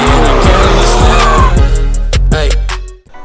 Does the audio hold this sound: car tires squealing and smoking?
yes